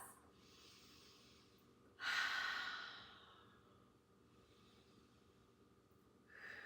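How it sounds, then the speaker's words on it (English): Three big, deep breaths during a gentle somatic stretching flow on the floor, each a slow airy inhale and long sighing exhale, quiet and close with no talking. "3 big breaths."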